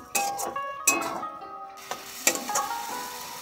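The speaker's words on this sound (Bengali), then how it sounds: "এবারে এতে আমি ফুলগুলো দিয়ে নেড়ে নেব, হালকা করে ভেজে নেব।" Bok flowers are stirred in a pan as they lightly fry, with a faint sizzle beneath several sharp metallic clinks and scrapes of a spoon against the pan, spaced irregularly, close by and without speech.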